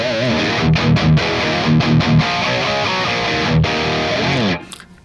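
Heavily distorted electric guitar through the Amped Blackout amp modeled on an EVH 5150, played loud and alone in chunky palm-muted chugs and sustained chords before cutting off at the end.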